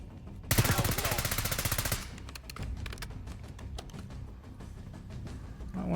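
A rapid burst of machine gun fire in Call of Duty: Black Ops 6 for about a second and a half, followed by scattered shots and clicks, with voices talking faintly.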